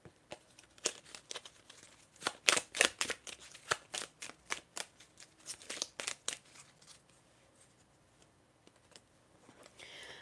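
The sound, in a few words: shuffling tarot cards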